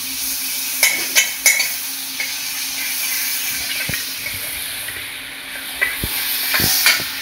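Butter sizzling in a hot wok (kadai) for a catla fish butter masala, a steady soft hiss with scattered utensil clinks and taps, heard alone without talk.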